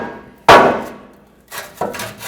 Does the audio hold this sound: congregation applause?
no